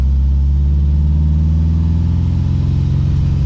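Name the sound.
air-cooled car engine running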